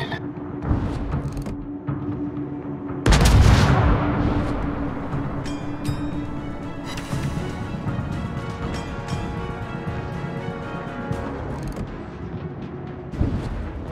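Warship guns in a naval battle game: a heavy booming salvo near the start and another crash later, with rumbling decay and a steady engine-like hum throughout.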